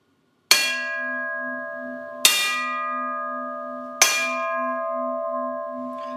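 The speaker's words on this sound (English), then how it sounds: "a nearby church bell was tolling a funeral" A single church bell tolls a funeral knell three times at slow, even intervals, each strike ringing out with a long, humming decay in quiet surroundings.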